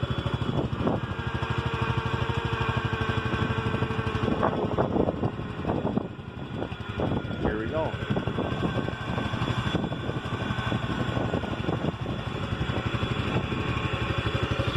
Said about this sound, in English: The tractor needs to warm up a little bit.